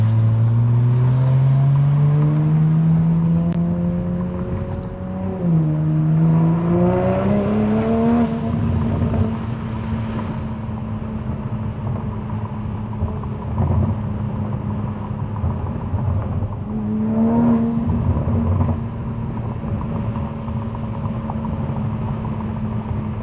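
A Dodge Viper's engine roars loud and close through a hard pull on new tires, climbing in pitch through the gears with a brief dip at each shift, then settling into a steady deep drone, no talk.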